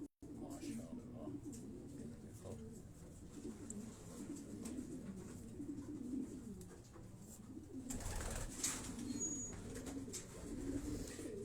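A white racing pigeon coos softly in low, repeated throaty phrases across the whole stretch, with a louder bout near the end and someone talking faintly alongside.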